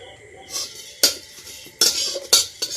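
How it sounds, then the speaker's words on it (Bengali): Whole spices, including cardamom and black pepper, dry roasting in a hot, dry kadai, with a spatula scraping and clinking against the metal in several short, close bursts and no talking. "সবগুলো মশলা একসাথে দিয়ে দিচ্ছি, আগে এটাকে ভালো করে ভেজে নেব।"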